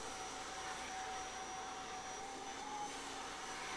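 A Kirby G4 vacuum cleaner with its suction control grip runs as a faint, steady whining hum, unchanging throughout with no voices.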